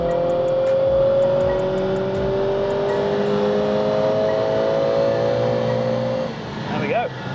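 A Mercedes A45S AMG under tuning pulls hard through a full-throttle run, engine note steadily rising and droning loud from inside the car, then easing off near the end with brief chatter.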